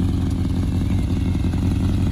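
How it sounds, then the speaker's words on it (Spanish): A Kawasaki Zephyr 750 cafe racer motorcycle runs with a steady, even engine and exhaust rumble at close range, holding a constant idle-like pace without voices. "El sonido muy bueno, prima el sonido del escape."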